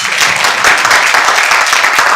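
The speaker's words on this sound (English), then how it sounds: "Please give yourselves a round of applause." Dense, loud applause from medical graduates at their class dinner, continuous clapping close and crowded with no talk over it.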